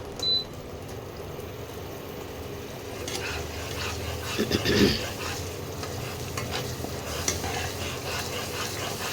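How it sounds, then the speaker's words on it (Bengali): Close, continuous sizzling of spices frying in oil, with occasional clinks and stirring scrapes in a pan; no voices. "এই মশলাটা একটু ভাজা ভাজা হোক।"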